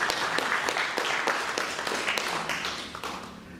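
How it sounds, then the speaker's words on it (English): An audience at an environmental program launch applauds, a dense burst of clapping with individual sharp claps standing out, gradually thinning over a few seconds. "I think they deserve a round of applause."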